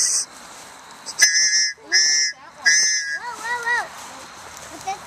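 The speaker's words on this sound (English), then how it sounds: "I'll blow this orange whistle." Several short, shrill whistle blasts sound in quick succession, with a person talking in between and afterward.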